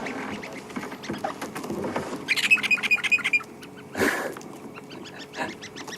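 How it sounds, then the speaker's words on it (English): A flock of red-billed buffalo weavers call overhead during an evening safari drive, a rapid series of chattering, tweeting notes rising midway, with other scattered sounds and a louder burst near the end. "That tweeting you can hear above us is a whole group of red-billed buffalo weavers."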